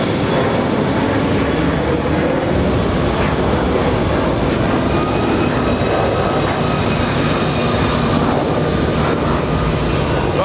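A Virgin Atlantic airliner bound for Manchester climbs away from JFK airport, its jet engines producing a loud, continuous broadband roar that holds steady throughout, with no talk over it.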